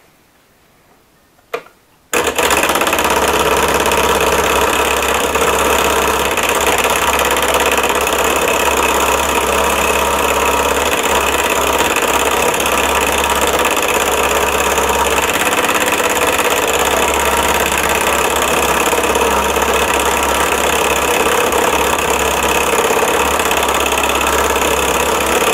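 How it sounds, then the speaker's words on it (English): Scroll saw trimming a plate fitted with an automobile timing belt to make a cog wheel; after a brief quiet start the motor starts and runs loud and continuous with a steady buzzing vibration to the end. "Here I have a scroll saw that I'm going to go ahead and use to trim it down some to the right length."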